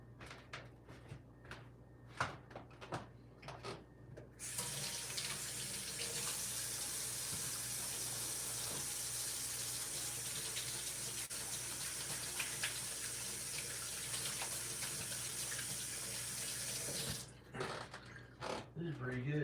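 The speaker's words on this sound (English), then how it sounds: "I'm gonna wash my hands." Tap water runs steadily into a sink during handwashing, a continuous broadband rush lasting most of the stretch, bracketed by brief knocks and handling sounds before it starts and after it stops.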